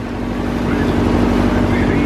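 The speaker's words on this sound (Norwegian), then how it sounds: "Det er en fin båt." A motorboat engine runs on the water off Croatia, a loud, close, steady drone with a churning rumble, while people talk over it.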